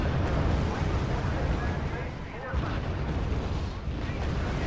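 Heavy rumbling explosions from AR-234 blitz bombers striking in RUSE, a dense, loud, continuous roar of blasts with brief dips, running under a voice.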